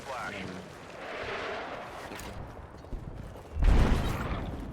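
Rapid gunfire and booming blasts in Battlefield 6's RedSec mode rumble continuously, with a heavier burst of shots near the end.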